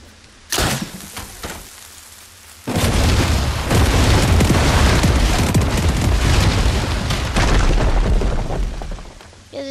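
A house is blown up in the video game Lego Fortnite: a sharp blast, then a sustained loud roar of explosions and crumbling debris continuing for several seconds.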